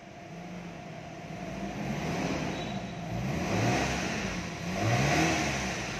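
A 2005 Mitsubishi Jolly's 2.0 engine is revved up toward 5000 rpm, a moderate mid-pitched hum rising and falling in a few swelling pushes, steady and unaccompanied by talk.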